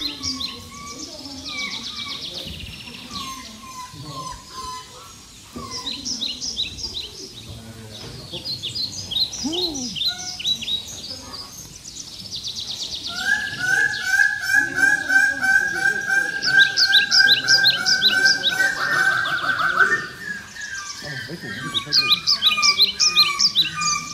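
Geese honk loudly alongside chirping and tweeting birds at Pairi Daiza zoo and botanical garden in Belgium, with repeated calls layered throughout and a brief voice or two in the background.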